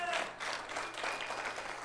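A congregation at an evening church conference claps briefly, a soft, fairly distant patter of hands that lasts under two seconds.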